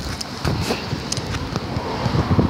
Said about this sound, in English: it's the wind that's got that noise